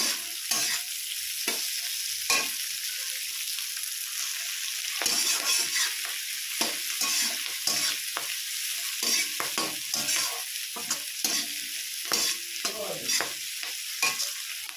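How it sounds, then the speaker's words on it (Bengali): Onion and nigella seeds being stirred in a hot pan for a Bengali cabbage and fish-head dish, a steady sizzle of frying under repeated scraping strokes of the spoon, close and continuous with no talk. "পেঁয়াজ কালিটাও আমি 2 মিনিট এভাবে নাড়াচাড়া করে নেব।"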